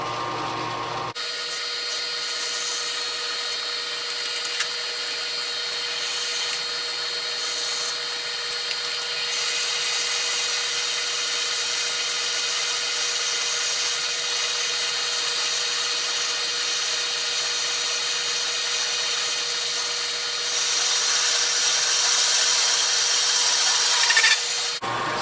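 A drill bit cuts into a steel adaptor for a 50-ton Porta Power ram on a machine tool, giving a steady, even grinding and rubbing whine that holds without a break under the hum of the running machine.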